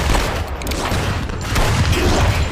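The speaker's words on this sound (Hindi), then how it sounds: "गोली चलाओ, भून दो साले को, गोली चलाओ।" A dense, sustained burst of overlapping gunshots crackles and booms loudly without pause.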